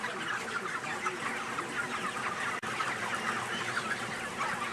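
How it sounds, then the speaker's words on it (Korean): Chickens in a crowded poultry shed, a flock raised on a farm, keep up a dense, steady mass of overlapping clucks and murmurs with no single bird standing out, moderately loud and continuous throughout, with one brief dropout partway. "이곳의 닭은 모두 건강하고 활기차 보였다"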